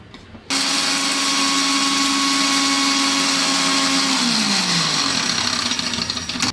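A kitchen mixer grinder runs loud and steady, milling asafoetida, turmeric, black salt and other spices into fine powder for lemon chutney, starting abruptly and winding down slightly in pitch toward the end.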